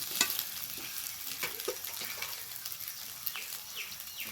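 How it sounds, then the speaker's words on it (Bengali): Soft, steady sizzling and stirring of taro pieces with prawns and spices frying in a pan, with occasional scraping clicks and faint background chirps. "এবার খুব ভালোভাবে সব মশলার সাথে কষিয়ে নেব"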